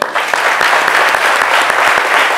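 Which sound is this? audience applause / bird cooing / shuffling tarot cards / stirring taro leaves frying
audience applause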